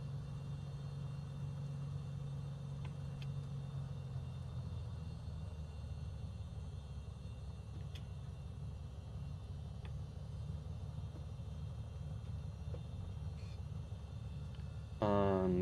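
A Microsoft Flight Simulator airplane's engine runs on the ground in the game. It makes a faint, steady low drone that holds for the whole stretch, with a few soft clicks and a brief louder burst at the very end.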